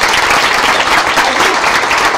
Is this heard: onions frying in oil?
no